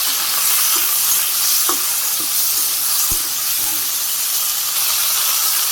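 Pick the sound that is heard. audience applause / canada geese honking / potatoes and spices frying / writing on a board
potatoes and spices frying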